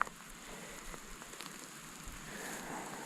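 Rain falling outdoors during a stormy trail camp on Green Mountain, Colorado, a faint steady hiss of drops with light pattering throughout and no talking.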